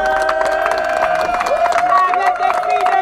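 A church congregation in Attiékoi, Côte d'Ivoire, gives a loud, sustained ovation of clapping and cheering mixed with singing voices, celebrating the site's connection to the electrical grid.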